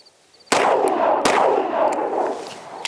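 Two sharp gunshots from a Springfield Armory Hellcat Pro pistol firing 115 grain ammunition at a range, each crack followed by a long ringing decay, a third faint report at the end.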